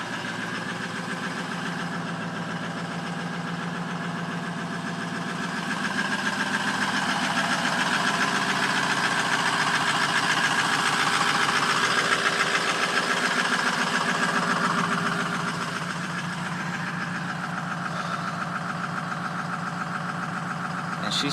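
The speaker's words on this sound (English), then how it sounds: "It still likes to surge and do rough idles" Ford 6.0 Powerstroke diesel V8 in a pickup, idling roughly after a cold start, with a steady mechanical clatter and a slight surge in the middle that rises and then settles back, heard close up with no talk.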